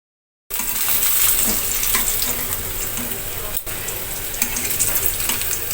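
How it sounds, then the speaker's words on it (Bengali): Spices tempering in hot oil for a homemade curry, a dense, loud, steady sizzle and crackle that starts abruptly and runs throughout with a brief dip midway, no talking. "তো আমি এখন ফোড়ন দিয়ে নিব আর কি।"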